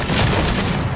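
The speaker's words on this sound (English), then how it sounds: "Oh my god, he threw an airstrike." Airstrike explosions in a video game, a dense burst of booming, crackling blasts packed into one loud second with no talking.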